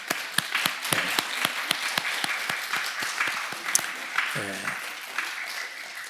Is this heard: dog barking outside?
no